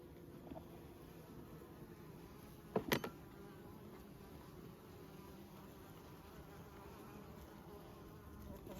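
Honey bees hum steadily at an open hive at Nymboida, a dense, even drone throughout, with a brief louder knock or handling clatter near the middle and no speech.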